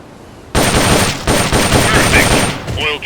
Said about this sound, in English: The M16's a standard assault rifle,